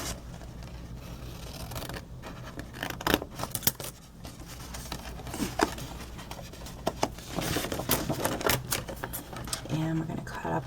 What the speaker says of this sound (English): Cut up on that score line.